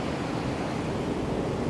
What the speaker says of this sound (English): But let me show you the surf. The surf is a little bit rough.